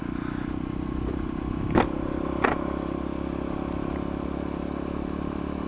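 A supermoto motorcycle engine hums steadily on a narrow country lane, a constant close drone with two brief sharp clatters partway through.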